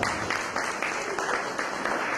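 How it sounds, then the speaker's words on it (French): Wedding guests applaud the groom's mother in a dense, steady patter of clapping that runs throughout, fairly close and loud with no speech over it. "Applaudissons quand même la maman ce soir."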